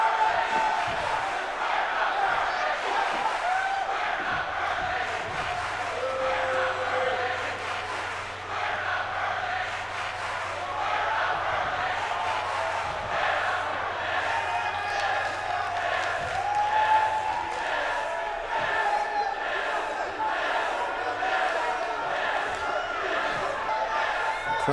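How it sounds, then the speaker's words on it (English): A wrestling crowd in an arena chants and cheers steadily, a dense roar of many voices rising and falling in rhythm, with a commentator talking over it. "Crowd chanting yes here. They're very pleased."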